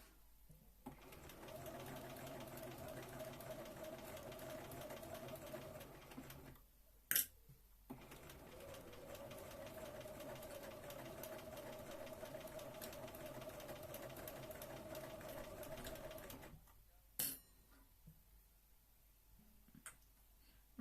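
A sewing machine stitches a Regency dress in two long, steady, rapid runs with a short pause between them and a couple of sharp clicks, close and fairly quiet.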